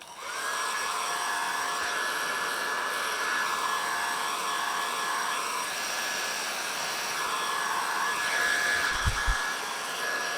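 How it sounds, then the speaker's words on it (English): A hair dryer blows steadily to set a handlebar mustache around a brush, giving a close, continuous whine and airy rush that dips briefly midway before resuming, with a couple of faint knocks near the end. "Then I blow dry."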